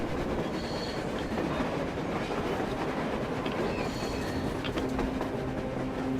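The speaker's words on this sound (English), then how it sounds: "A train! A damn train on the surface!" A train in the video game Metro Exodus rolls across the surface, a steady heavy rumble of wheels and rail clatter with faint metallic squeals, sustained and fairly close, with no voices.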